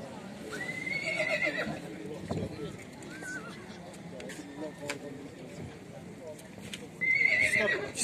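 A horse whinnies at an outdoor livestock market in Bishkek, rising calls near the start and again at the end over crowd noise and talk, with hoof clip-clops scattered through.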